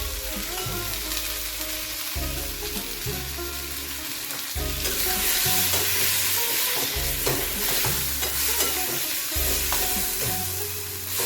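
Ground cumin, coriander, turmeric and chili powder sizzle loudly in a hot pan for a cauliflower katla fish curry, a steady close frying hiss broken by rhythmic scraping of stirring.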